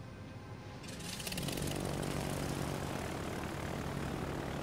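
Old propeller-driven warplanes and bombers in a video game: a loud, steady engine drone swells in after about a second and holds as a dense, continuous roar with no talk.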